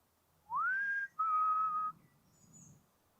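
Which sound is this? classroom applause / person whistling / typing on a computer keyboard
person whistling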